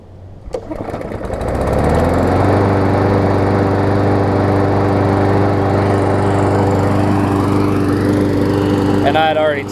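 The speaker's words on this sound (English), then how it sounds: "the mower here that I cleaned out the carburetor on is running good" Lawn mower with a new-style Briggs and Stratton OHV engine and freshly cleaned plastic carburetor starts and runs steadily, a loud close droning hum holding even after a quick rise, with a little clatter near the end.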